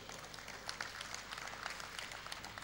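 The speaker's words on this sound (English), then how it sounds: "Shall we take our seat as we sustain the applause for the nation's leading university of" Audience applause fills a university convocation hall, a dense, steady wash of many hands clapping at moderate distance throughout, with no talk over it.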